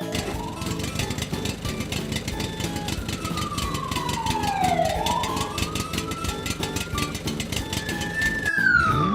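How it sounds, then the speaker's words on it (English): A fire truck siren wails loudly and continuously, sweeping up and down in pitch over a rhythmic engine and horn-like pulsing, with a sharp blast near the end. "Fire truck."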